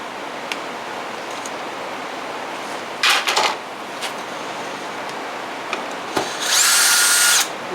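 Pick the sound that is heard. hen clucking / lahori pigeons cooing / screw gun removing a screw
screw gun removing a screw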